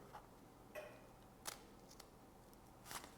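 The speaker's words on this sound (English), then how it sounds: "And then I'm going to cut another snip this way." A few quiet, isolated snips of scissors cutting paper for a luminaria star, spaced irregularly in a near-silent room.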